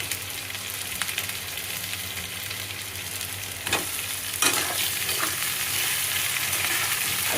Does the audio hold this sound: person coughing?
no